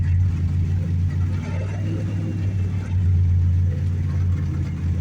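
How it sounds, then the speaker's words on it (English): A chokeless 1986 Dodge D-150 pickup engine runs rough just after a difficult cold start, a loud, steady low idle with slight wavering. "But that is proof that you can start a chokeless vehicle in the cold."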